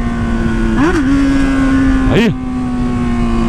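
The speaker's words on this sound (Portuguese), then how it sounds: "O barulho dessa moto aqui, cê é louco" A Honda Hornet motorcycle engine holds a steady idle, then is blipped twice in quick throttle revs that rise and fall before settling back, loud and close, with a brief spoken word over it.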